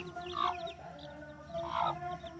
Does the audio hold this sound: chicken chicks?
yes